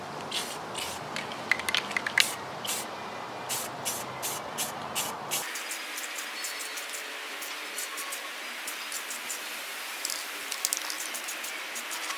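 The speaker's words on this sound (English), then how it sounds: "now we're going to paint 2 coats of black" An aerosol can sprays two coats of black paint onto the inside of a Honda Civic headlight housing, giving quiet, close hissing bursts in an irregular start-stop rhythm.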